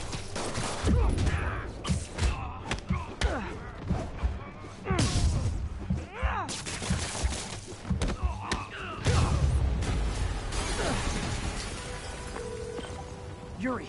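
A blast goes off in the Marvel's Spider-Man video game, a series of heavy booms, crashes and rumbling debris thuds rolling through the 14 seconds, loud and chaotic under game music and effects.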